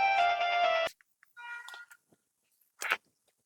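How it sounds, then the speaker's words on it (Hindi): An incoming-call phone ringtone plays loud and alone for about a second, then stops; faint chewing or crunching and a brief noise follow. "फोन आ रहा"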